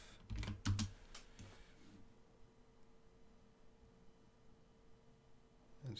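Typing on a computer keyboard while searching an online dictionary: a short burst of close keystrokes in the first two seconds, then near silence with faint room noise.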